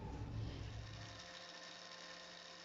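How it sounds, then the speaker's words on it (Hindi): A blender blending pomegranate juice whirs steadily with a high motor whine, starting with a heavier chopping rumble that smooths out into an even spin. "इसको हम अच्छे से ब्लेंड कर लेंगे।"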